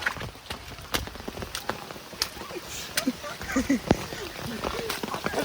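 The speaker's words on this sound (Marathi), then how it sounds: "आज पाऊस पण लय आहे मरणाचा पाऊस आहे" Rain patters with scattered sharp drops and splats, fairly soft, while someone talks close by over it.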